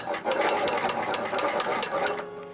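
Old military dynamo field telephone being cranked, a fast rattling whir of rapid ticking clicks with a buzzing ring, close and steady for a couple of seconds.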